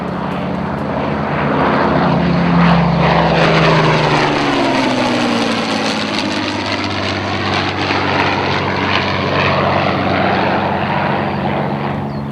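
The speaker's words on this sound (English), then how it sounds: "if you've ever heard a Merlin engine in your life, you'll never forget it. It has a whistling roar" A Rolls-Royce Merlin aircraft engine runs with a loud, sustained whistling roar, its pitch sweeping as the propeller plane passes close by, with no talk.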